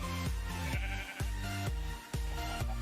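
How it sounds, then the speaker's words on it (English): A flock of sheep in the video game Minecraft bleats repeatedly, about six clear, wavering baa calls in quick succession, overlapping one another and fairly faint overall, with no talk over them. "Sheep that are still alive despite the sheep killing yesterday."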